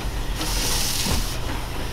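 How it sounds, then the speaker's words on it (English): A train on the Apedale Valley Light Railway gives off a loud, steady hiss over a low rumble, with a brief surge of steam-like noise in the middle. "this train's going to turn round"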